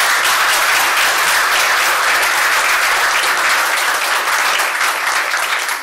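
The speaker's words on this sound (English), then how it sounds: "Applause for Mr." An audience applauds a lecturer on the Scandinavian welfare model at a Students for Liberty event, a sustained, even wash of many hands clapping that stays loud throughout.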